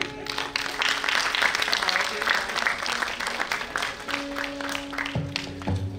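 A theatre audience at Ravindra Manch in Jaipur, gathered for its diamond jubilee celebration, claps to welcome a singer, steady applause with musical tones and a voice sounding underneath toward the end.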